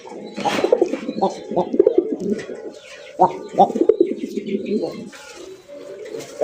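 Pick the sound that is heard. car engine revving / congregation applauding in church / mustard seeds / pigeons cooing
pigeons cooing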